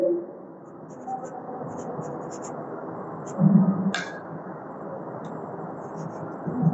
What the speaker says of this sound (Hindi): मैं इसको इस टाइम से यहाँ पे लिख देता हूं